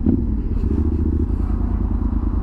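A motorcycle carries its riders about a kilometre to a storage depot in South America, its engine a steady, close, low rumble that runs unbroken throughout with no voices.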